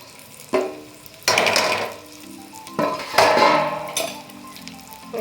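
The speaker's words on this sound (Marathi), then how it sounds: "हे जे ओट आहे हे आधी भाजून घ्यायचे आहे तुपामध्ये छान परतवून घ्यायचे आहेत" Oats roast in ghee in a pan, a soft sizzle punctuated by several clattering scrapes of a spoon stirring against the metal, close and unaccompanied by voices.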